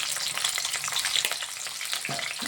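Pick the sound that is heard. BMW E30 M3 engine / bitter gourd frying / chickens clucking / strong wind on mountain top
bitter gourd frying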